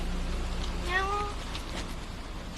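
A cat gives a single short meow about a second in, fairly close, over a low steady background hum, with no speech.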